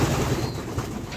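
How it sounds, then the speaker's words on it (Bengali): Pigeons at a keeper's loft, with soft cooing close by that runs through the whole moment over a steady low murmur of birds. "বাচ্চা কবুতর ধরলাম, এই বাচ্চা কবুতরটা ওকে দেখতে ভালো লাগছে আসলে"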